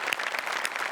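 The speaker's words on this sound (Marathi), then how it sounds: "जोरदार टाळ्या यांच्यासाठी" A studio audience gives a brief burst of steady clapping during a Marathi comedy show, heard faintly for under a second.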